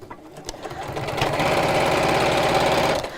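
Sewing machine top stitching: a short start and then a fast, steady mechanical whirr with a rapid needle rhythm that stays close and fairly loud before stopping at the end.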